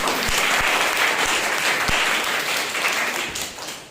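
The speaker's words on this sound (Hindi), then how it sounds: "परमेश्वर के लिए जोरदार तालियां" Loud, dense applause from a church congregation at a Sunday morning service, steady for about four seconds before tapering off slightly at the end.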